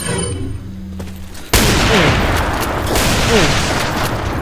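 Gunfire in Resident Evil 4: a loud burst of game shots erupts about a third of the way in and fills the rest of the clip with sustained crackling blasts, after a quieter stretch with faint voice-like tones.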